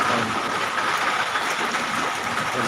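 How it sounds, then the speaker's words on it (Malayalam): Heavy rain pours down as a constant, dense hiss that fills the whole stretch without pause, loud and close, with no voices. "നല്ല മഴയാണ്"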